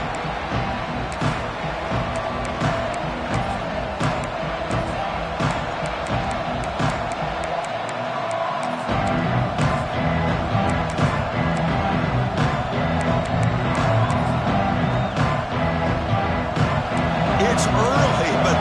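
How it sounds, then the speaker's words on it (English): Large stadium crowd roaring at a college football game between UCLA and Oregon, a dense sustained wall of cheering and whooping that swells louder partway through, with commentary voices over it. "It's early, but this crowd is fired up. Listen to this noise here."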